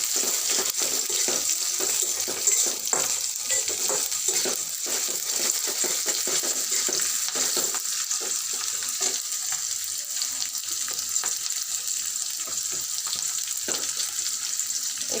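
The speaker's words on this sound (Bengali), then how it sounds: "দেখেন এখানে আমি দারচিনি, এলাচ, তেজপাতা একসাথে দিয়ে দিচ্ছি।" Whole cinnamon, cardamom and bay leaf drop into hot oil for a Bengali hilsa fish dish, setting off a steady, fairly loud crackling sizzle with scattered pops that holds throughout, no voices over it.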